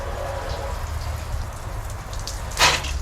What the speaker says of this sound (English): I'm going to rinse this fender off